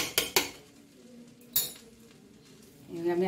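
Vegetable fried rice being stirred in a pan: sharp metallic clinks and scrapes of a spatula against the pan, separated by quieter stretches, with a soft sizzle building toward the end.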